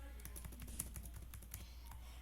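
Quiet, quick keystrokes on a computer keyboard while coding in VS Code, a steady run of light clicks over a low hum.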